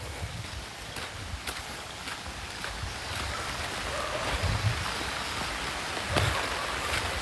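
Steady rain falling outdoors, a constant broadband hiss with a few sharper patters and low rumbles, fairly close and even throughout, with no voices.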